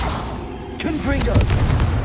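Confringo blast spell in Hogwarts Legacy PC game, a burst of booming, crackling impacts with whooshing tones in rapid succession amid other spell effects, loud and close over a busy combat mix.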